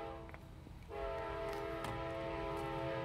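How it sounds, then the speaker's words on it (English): A train on a busy railroad line beside an abandoned factory sounds a loud, sustained horn that starts about a second in and holds steady, over rumbling wheels and rail noise. "This is a busy railroad line, and trains go by here all the time."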